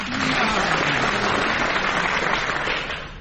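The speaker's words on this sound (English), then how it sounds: "More enthusiastic applause will be in order for our scorer, Leonie Lawson." Studio audience on a British radio music quiz show applauding the scorer, a full sustained round of clapping heard alone, loud and even, fading a little toward the close.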